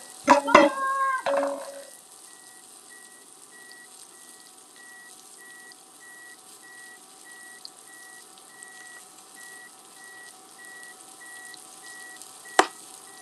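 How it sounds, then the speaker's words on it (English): A faint, regular electronic beep from an air fryer repeats steadily for about ten seconds over quiet kitchen noise, after a brief clatter and sizzle at the start. "I don't know why it's beeping"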